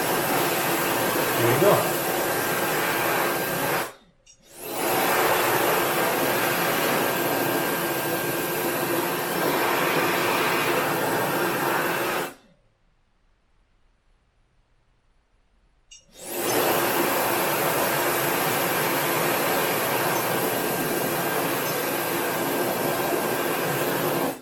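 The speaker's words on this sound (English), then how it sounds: "Now you can just go to Nyuair and wave your hand right here, and then you'll be able to dry your hands." A small Nyuair hand dryer with UV self-cleaning blows a steady, loud whooshing airflow that stops briefly twice and restarts, with someone speaking briefly over the running noise.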